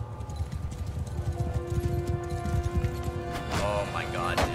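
Horse hooves clip-clop in a steady galloping rhythm during medieval combat in Mount and Blade Bannerlord, close and fairly loud, with a horse whinny near the end while someone talks over it.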